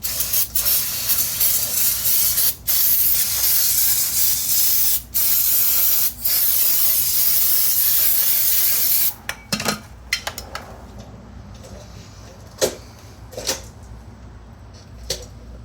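Aerosol cleaner sprayed onto the brake work surface of a 2000–2007 Ford Taurus drum brake, a long loud continuous hiss for about nine seconds broken by brief pauses, then short separate bursts.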